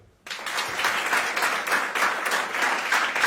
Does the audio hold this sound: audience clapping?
yes